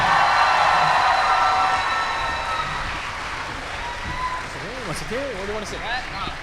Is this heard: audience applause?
yes